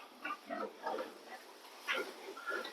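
Piglets grunting and oinking as they crowd in to eat, several short bursts close by in a farm pen, with no other sound between them.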